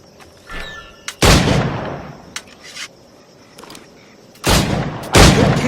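Firearm gunshots in the video game Assassin's Creed 4: several loud, sharp reports, some in quick pairs, with lighter clicks and mechanical handling sounds between them, with no voices.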